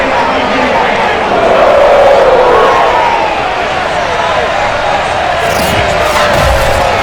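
Sold-out Cincinnati stadium crowd roaring in the Madden NFL 22 video game as the Bengals take the field, a loud, steady, dense wash of cheering throughout.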